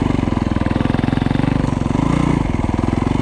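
A Yamaha YZ250F dirt bike engine runs in first gear on snow, a loud, close, steady four-stroke putter with a rapid even pulse that swells slightly partway through.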